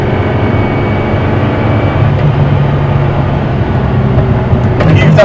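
A Praga Bohema hypercar's transmission whines and hums steadily from inside the cabin, a constant low mechanical drone with a faint rising tone, no voices.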